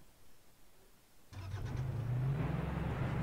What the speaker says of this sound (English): let's get the car